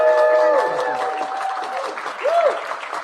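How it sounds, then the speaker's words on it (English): A crowd applauds and cheers at a live event, the clapping loud and sustained at first and then thinning slightly. Voices call out within the noise. "Are you cheering now?"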